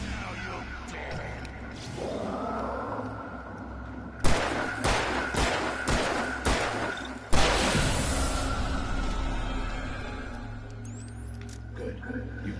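Gunfire in Alan Wake Remastered: a rapid series of about five sharp, loud shots around the middle, then one heavy blast, over a low droning game ambience.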